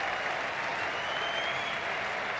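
A cricket crowd at the Gabba applauds a well-placed shot past short cover, a steady, full wash of clapping from a large stadium audience.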